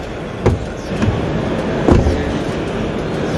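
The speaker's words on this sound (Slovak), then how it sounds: "Počujete tie dvere?" The door of a limited-edition Mercedes truck gives a few soft, muffled thuds and clicks, close by and fairly quiet, against a low background hum.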